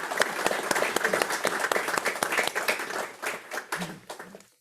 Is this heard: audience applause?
yes